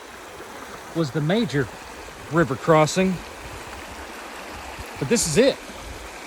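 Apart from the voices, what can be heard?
river flowing at a hiking river crossing in Arkansas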